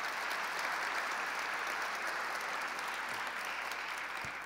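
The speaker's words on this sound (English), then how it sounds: "Let's give the Long Island members a round of applause." A business luncheon crowd applauds the Long Island delegation, a steady, fairly distant roomful of clapping that holds evenly throughout, with a couple of faint low thumps near the end.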